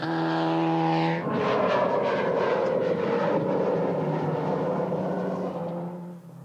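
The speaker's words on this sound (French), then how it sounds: "Des avions sont affrétés spécialement pour l'assistance et la sécurité." An airplane chartered as support and safety aircraft for the 1983 Dakar rally drones loudly with steady engine tones, the pitch shifting as it runs, then fades slightly at the end, with no talk.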